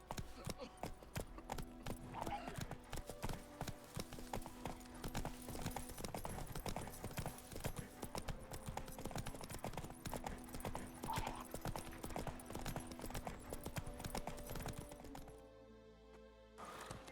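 Hooves of Roach, the horse in The Witcher 3, clip-clopping in a steady quick rhythm alongside game sounds, with brief speech near the end as the ambience drops away.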